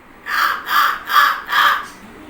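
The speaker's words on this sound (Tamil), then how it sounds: "காகம்," A crow caws four times in a steady, evenly spaced series, loud and near, with short pauses between the harsh calls.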